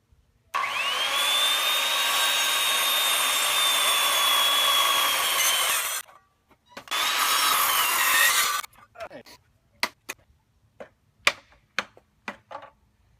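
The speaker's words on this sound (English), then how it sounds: "so I can hold these boards on end, so I can notch them out like I did the other side there" A power tool cuts notches into wooden boards for a muscadine arbor outdoors. It gives two loud, steady whining runs with a short break between them, then a scatter of sharp taps and knocks.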